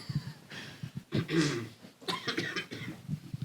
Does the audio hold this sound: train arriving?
no